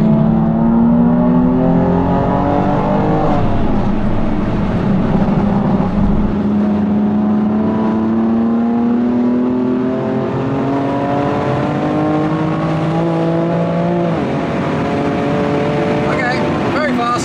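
A rebuilt BMW M2 Competition accelerates on a road test, its engine note rising steadily through the gears, loud and close with a clear climbing whine.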